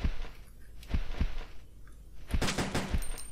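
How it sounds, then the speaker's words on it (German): Pistol shots in the video game Resident Evil Code Veronica X, a handful of sharp bangs spaced irregularly over a constant noisy game background, with a denser burst near the end. "die brauchen also nur einen Pistolenschuss"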